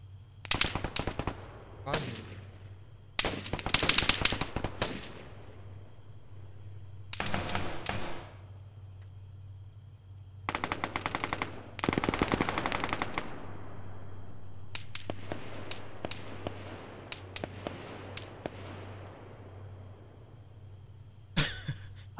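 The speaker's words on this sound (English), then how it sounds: "Someone is shooting at me" Gunfire in an online shooter video game, bursts of sharp rapid shots and single cracks spaced across the stretch, some loud and close, others fainter, with quiet gaps between.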